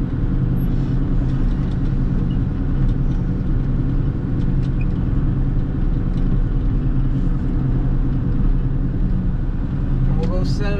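A Claas 695 forage harvester with dead batteries rumbles steadily up close as it is driven back and turned around, its loud, continuous engine drone running the whole time with someone talking over it.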